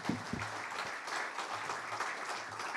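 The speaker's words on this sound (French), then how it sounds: "Merci à tous les deux, on peut les applaudir." Audience applause after a business presentation on employee share ownership, a steady wash of clapping lasting several seconds, moderately distant and without speech.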